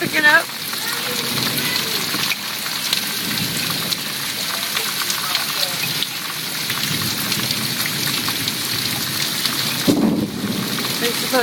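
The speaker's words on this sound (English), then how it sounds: "Here's the rain picking up." Heavy rain from a summer thunderstorm pours steadily onto nearby surfaces, with a brief rumble of thunder and a person talking faintly now and then.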